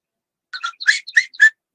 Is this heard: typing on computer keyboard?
no